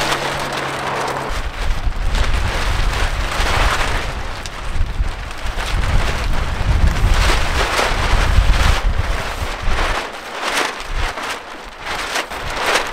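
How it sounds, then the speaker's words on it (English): Strong wind buffets the microphone at a highway rest area, a steady roaring rumble with gusts rising and falling over the whole stretch, no talking. "I hope the wind dies down a little."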